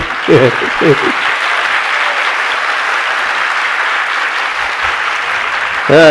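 Sustained applause from a crowd at a Jain religious discourse, steady and broad throughout, with a few brief voices cutting in near the start and end.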